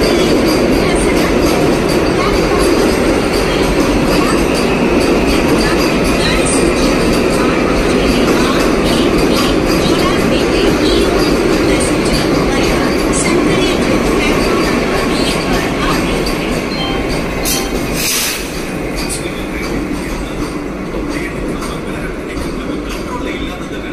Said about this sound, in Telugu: సో గైస్ మన ట్రైన్ అయితే వచ్చింది ఉదయ్ ఎక్స్ప్రెస్